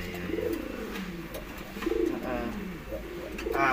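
Pet doves cooing in a bird-keeping setting, soft low repeated coos in several short phrases, heard close over a background of faint voices and ambient noise.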